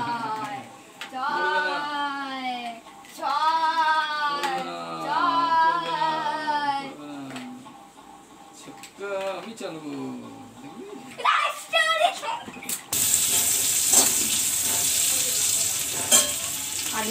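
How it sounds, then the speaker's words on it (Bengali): Pointed gourd (potol) frying in a pan in a home kitchen, a steady hiss of oil that swells loud near the end, with someone talking over most of it. "চলছে পটল ভাজা।"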